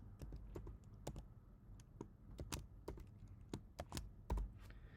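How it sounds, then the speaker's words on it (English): Fast, uneven keystrokes on a computer keyboard while a password is typed in, a string of sharp clicks close by with brief pauses, no voices. "type the password."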